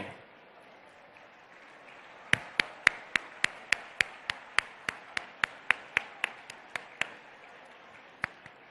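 A steady run of sharp, evenly spaced single claps, about eighteen in a row at a brisk beat, then one last clap after a short pause.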